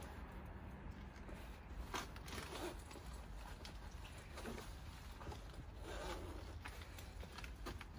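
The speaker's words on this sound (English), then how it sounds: "I'll just zip it up for you." A leather jacket, a Boda Skins Kay Michael in size small, is zipped up in one steady run of close, soft rubbing and scraping with faint metallic ticks, no voices.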